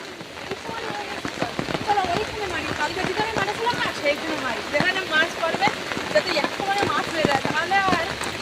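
Heavy rain pours down in a Sundarbans village, a dense, steady patter of drops striking surfaces close by, with people talking over it.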